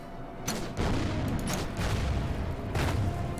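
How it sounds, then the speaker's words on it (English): Mortar fire in the war strategy game Order of Battle: Panzerkrieg, a dense run of repeated muffled booms and cracking shots, steady and fairly loud with no pauses, heard alone. "Mortar fire."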